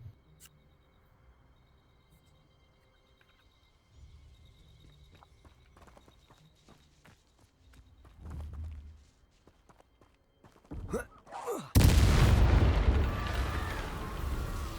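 A Confringo explosion spell goes off in Hogwarts Legacy: faint clattering steps and rustles give way to a sudden loud blast with a long crackling, roaring tail near the end.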